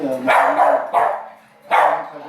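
A dog barks three times close by, sharp separated barks with short pauses between them, with nothing else going on.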